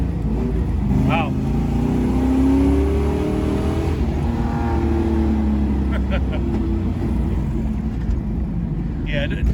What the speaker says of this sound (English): Ripping gears in Explorer.